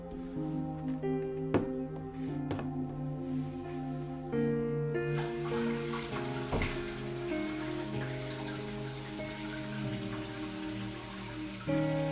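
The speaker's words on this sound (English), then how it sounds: "I might give this a quick rinse before I sign off again." Water runs from a tap to rinse a fossil during prep work, a steady splashing flow that starts midway and continues alongside faint clinks and rattles; no talking.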